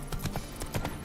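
Hooves of Roach, the horse in The Witcher 3, clop in a quick galloping rhythm, several close, distinct beats in about a second over a low background.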